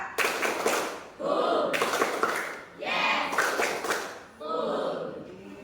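A group claps in counted sets during a school counselling session, with three bursts of clapping separated by short pauses, loud and near, with voices mixed in.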